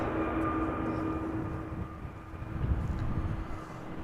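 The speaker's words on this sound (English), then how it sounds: "Two airplanes already visible. First up, an A319 from Lufthansa, arrival from Munich" Airliners arriving at Amsterdam Schiphol Airport, such as a Lufthansa A319 from Munich, give a steady distant jet roar with a low rumble that swells slightly midway, heard alone without talk.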